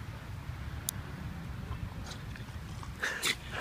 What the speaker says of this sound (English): I've got some dogs running around me